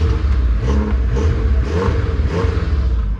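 A ZAZ Vida car engine runs with a quiet, rattling exhaust: a low uneven rumble with light clattering pulses throughout, close and fairly loud, without speech.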